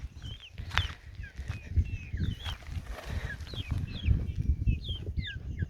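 Caged chickens cluck and chirp in soft, quick bursts, with occasional thumps and rustling from their enclosure, all faint and close together.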